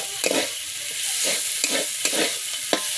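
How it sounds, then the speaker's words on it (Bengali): Chicken mince sizzles steadily in a hot frying pan while a spatula stirs it, with repeated scraping strokes rising over the continuous close-up crackle; no voices. "একটু ভেজে নেব। এখানে দিয়ে দেবো আমি চিকেনের কিমাগুলো।"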